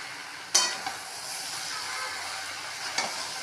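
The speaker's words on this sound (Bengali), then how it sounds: "ভালো করে কষার পর আলুগুলো দিয়ে দিলাম।" Potatoes fry with spices for a jackfruit curry, giving a soft, steady sizzle, with two sharp scraping stir strokes, one near the start and one near the end, and no talking.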